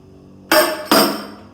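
Two sharp, bright hadroh frame drum strikes, a "tek duk" pattern, land close together, loud and near, with a brief ringing decay after each and no voices.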